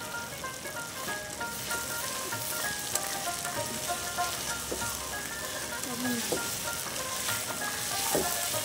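Green peas (matar) sizzle steadily in a hot pan, a constant crackling hiss that carries on throughout, with faint stirring clinks and some tonal sounds in the background.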